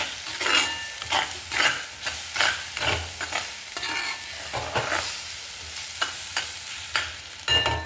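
Egg bhurji with browned onions is stirred in a hot pan over low flame, with a repeated scraping of the spoon under a steady sizzle, close and fairly loud.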